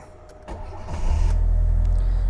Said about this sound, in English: let's see what happens when I start the engine.